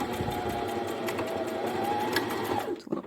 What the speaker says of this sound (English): A little back stitch there.